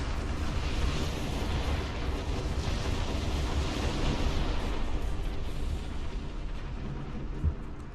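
A starship explodes under fire in the space combat game Star Trek Online, a dense, continuous rumbling roar with deep booms that holds steady throughout.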